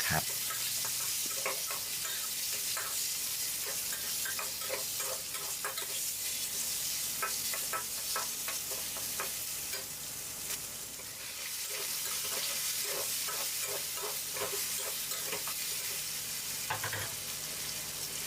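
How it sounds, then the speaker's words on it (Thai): Marinated pork is stir-fried in a hot pan, with a continuous loud sizzle and a steady run of quick scraping and clattering stirs throughout, close up and with no speech. "ก็ตามด้วยหมูหมักที่เรา เตรียมไว้ได้เลยครับ ลงไปผัดให้หมูสุก"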